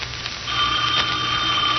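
Old-time radio drama telephone bell effect, a steady continuous ring with a bright tone sounding close and loud, carrying on alone without talk.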